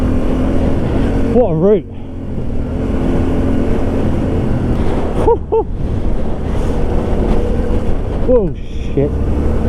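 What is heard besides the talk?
Yamaha Tenere 700 motorcycle riding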